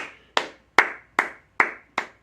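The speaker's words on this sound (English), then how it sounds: "I'm going to applaud this woman." Five sharp hand claps, evenly spaced about four tenths of a second apart, close and fairly loud with short ringing decays, applauding a woman in a quiet room with no talk.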